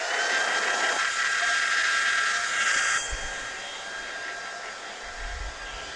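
A hair dryer runs loud and steady for about three seconds, then continues more softly for the rest, drying off a wet surface up close with a broadband rushing blow.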